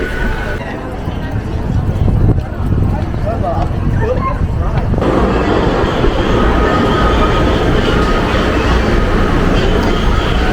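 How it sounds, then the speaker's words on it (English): A Walt Disney World monorail, Monorail Black, rolls along with a steady low rumble and rail hum that grows fuller midway, while people talk over it throughout. "This is our first time going on the monorail this trip, which is a bit wild."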